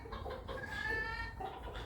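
A desi chicken in a London park gives a few short clucks and a brief drawn-out call, fairly faint amid quiet outdoor background.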